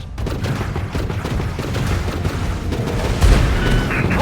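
Air-combat gunfire from The Falconeer, a dense steady barrage of booming shots and rapid bursts filling the whole stretch, loud and continuous with a heavier thump near the end.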